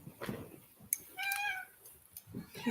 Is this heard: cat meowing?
yes